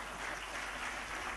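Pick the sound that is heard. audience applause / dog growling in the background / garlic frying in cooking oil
audience applause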